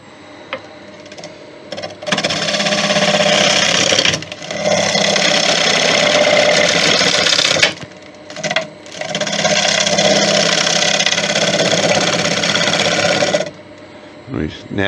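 Cherry bowl being turned on a wood lathe with light cuts: long, steady scraping and hissing passes of the tool against the spinning wood, loud and close, broken by short pauses between cuts.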